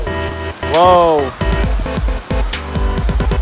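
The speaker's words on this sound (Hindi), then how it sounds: "बारिश इतनी तेज़ नहीं हो रही, मतलब कि नॉर्मल हो रही है पर अच्छी हो रही है" Moderate rain falls steadily as a constant patter, while a nearby voice exclaims loudly over it for a few seconds.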